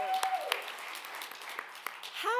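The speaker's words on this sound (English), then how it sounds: "Let's give them a round of applause, too." Light clapping from a small gathering at a devotional event, fairly quiet and sparse with scattered claps, and a voice speaking over the start and end.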